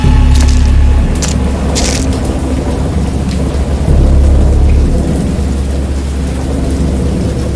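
In the video game Dagon, a heavy thunderstorm rumbles with deep rolling thunder over dense, continuous loud rain, with a few sharper crackles near the start.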